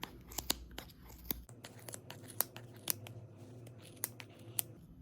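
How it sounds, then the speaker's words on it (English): Scissors snipping through a Christmas craft piece, a string of sharp crisp cuts at an irregular pace, quiet and close with no talk. "now you're gonna go ahead with your scissors and cut through this little"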